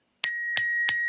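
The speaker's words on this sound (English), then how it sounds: "Who has the bell?" A bright metallic bell rung three times in even succession during a sports talk broadcast, each ring sharp and close with a short ringing decay, no talking over it.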